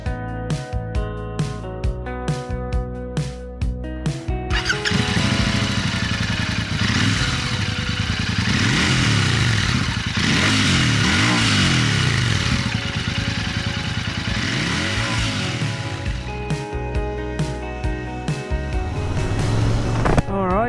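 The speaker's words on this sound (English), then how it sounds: "today we're going to take the Interceptor 650 for a first ride" A 2022 Royal Enfield Interceptor 650 motorcycle being ridden: after a short musical opening, its engine drones loud and close, revving up and down in repeated swells before easing off toward the end.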